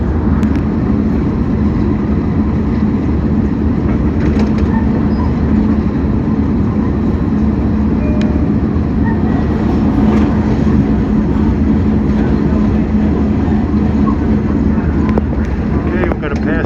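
An express train on the Jamaica to Babylon run rumbles along at speed, a loud, steady roar of wheels and motors that never lets up, with faint clanks over the rails.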